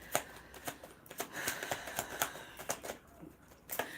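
Tarot cards are shuffled and drawn by hand in a series of soft, quick riffling flicks and taps. The sound is close but quiet, with no talking over it.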